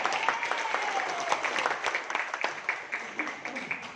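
Audience applause at a marketing plan presentation, a steady wash of clapping from a crowd lasting the whole few seconds, fairly loud and sustained.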